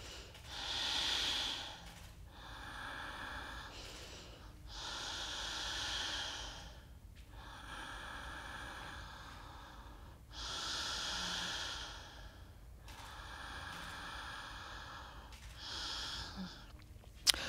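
Alternate nostril yoga breathing, slow, audible nasal inhales and exhales through one nostril, about seven long breaths in an even rhythm, close and soft with quiet gaps between.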